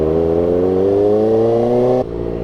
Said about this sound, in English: I'm pulling the throttle, but the bike kind of stutters